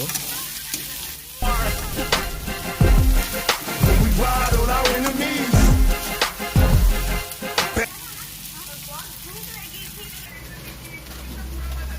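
Onions browning in a pan for a tomato and date sour chutney, a steady loud sizzle broken by scraping stirs, fading to quieter frying near the end.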